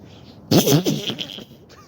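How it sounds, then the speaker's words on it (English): A short comic fart sound effect: one loud, buzzy, sputtering burst of about a second that trails off, alone in an otherwise quiet room. "we will tarnish it with a quick fart joke"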